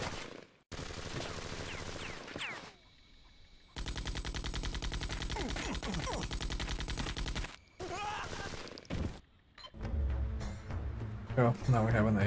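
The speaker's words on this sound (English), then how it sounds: "Now I have a machine gun" Bursts of rapid machine gun fire, an AK, in a comic book video game, loud rattling volleys broken by short pauses, with a voice heard at times among the shots.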